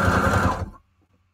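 A sewing machine running with its bobbin out, a fast close mechanical whirr that stops abruptly after about half a second and leaves near silence.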